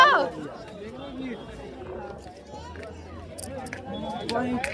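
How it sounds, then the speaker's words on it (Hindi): Crowd chatter at the India Gate parade, a busy babble of many voices close by, with individual talkers standing out over the background hubbub. "इतना भीड़।"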